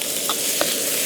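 Mapo tofu seasoning stir-fried in a wok, with a close, steady sizzle and a few soft spatula scrapes, no voices.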